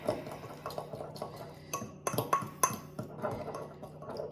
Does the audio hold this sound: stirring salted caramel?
yes